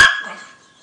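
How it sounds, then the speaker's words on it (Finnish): A single sharp bark from Terri, a pet dog, close and loud, ringing briefly into silence with no talk. "Se on mun koira."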